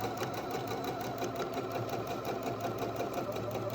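A sewing machine runs steadily, stitching a straight line of fabric for a homemade face mask, its needle chattering in a fast, even rhythm close by with no pauses.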